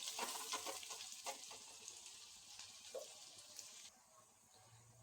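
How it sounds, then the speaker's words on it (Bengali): Onions sizzle softly in a pan for a Bengali gutum fish recipe, a low steady crackle with light stirring scrapes, fading slightly near the end. "খুব ভালোভাবে একটু পেঁয়াজটাকে এক থেকে দু মিনিট ভেজে নেব"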